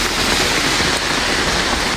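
Heavy rain pours down in a dense, loud, continuous hiss, close and steady, with no voices.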